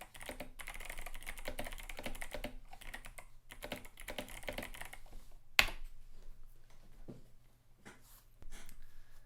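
Rapid clatter of fingers on a computer keyboard during a coding session, continuous bursts of keystrokes with brief pauses and one sharper click partway through, close and fairly quiet with no talking.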